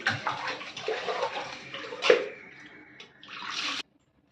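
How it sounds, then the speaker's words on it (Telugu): Rice is washed in water by hand in a home kitchen: soft sloshing and swishing with a splashier burst midway, then a brief pour before it stops abruptly. "బియ్యంలో 2 సార్లు కడుక్కోవాలి."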